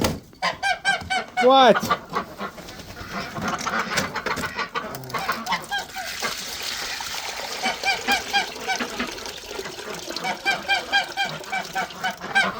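Geese honk loudly and repeatedly at close range on a farm, overlapping calls with some clucking fowl mixed in, and a person speaks briefly early on.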